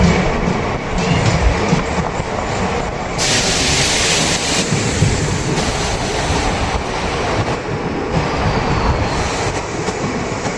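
A DEMU passenger train runs from Bidar toward Kalaburagi via Humnabad, giving a steady, loud roar of wheels on track from close by, with faint rhythmic clatter and rushing wind, and no voices.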